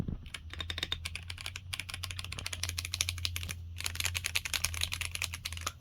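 Steady, fast typing on a Keychron C3 Pro tenkeyless mechanical keyboard with Brown switches, close by, with brisk clusters of clicky keystrokes and brief pauses, over a low constant hum.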